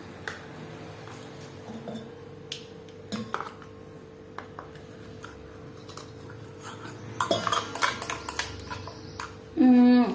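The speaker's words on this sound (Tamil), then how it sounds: "இப்போ நம்ம இதை ஒரு பாத்திரத்துல மாத்திக்கலாம்" Ground masala for fish fry being scraped and tipped from a grinder jar into a cooking vessel in a home kitchen: scattered light metallic taps and clinks, busier near the end with a louder scraping rattle, speech faintly between.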